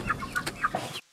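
Chickens clucking close by, several short bursts of clucks in quick succession, fairly loud, with the sound cutting off abruptly at the end.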